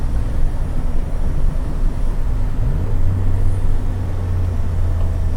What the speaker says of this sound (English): This is wide open throttle.